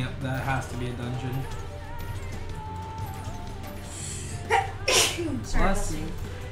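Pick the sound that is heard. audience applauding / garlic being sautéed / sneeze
sneeze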